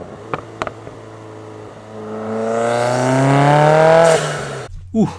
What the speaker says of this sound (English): I mic'd up the engine bay and exhaust in my buddy's 2018 WRX.